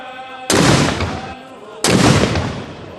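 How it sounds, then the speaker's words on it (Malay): Two booming ceremonial cannon shots from a 17-gun royal salute at Istana Nurul Iman palace in Brunei, each a sharp loud blast with a long rolling decay, spaced over a second apart, with faint ambient crowd murmur between. "17 das tembakan meriam dilepaskan sebagai menandakan bermulanya majlis istiadat berbedak pengantin diraja."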